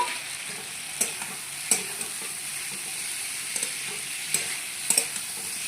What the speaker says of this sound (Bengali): এবার আমি ভেজে রাখা কপি, আলু আর আলু কপির ডাঁটিটা দিয়ে দেবো কড়াইয়ে